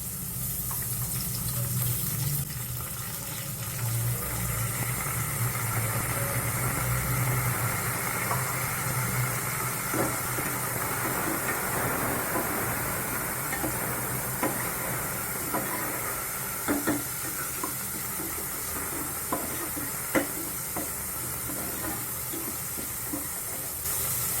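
Ginger garlic paste fries in oil with green chilies in a pressure cooker for chicken biryani, giving a steady, dense sizzling hiss that runs unbroken throughout with no voices.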